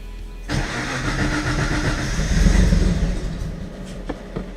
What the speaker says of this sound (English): I'm gonna see if I can start the car.